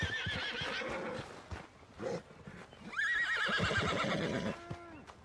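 A horse in a video game whinnies loudly with a wavering, high-pitched neigh, and hooves clop nearby amid rustling movement.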